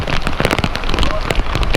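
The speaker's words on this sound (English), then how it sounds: "A strong hailstorm overtakes parts of southern Arizona Tuesday afternoon" Hail and rain pelt homes in Tucson, Arizona during a strong afternoon storm, a dense, loud, continuous clatter of hailstones and heavy rain striking roofs and surfaces with sharp scattered impacts.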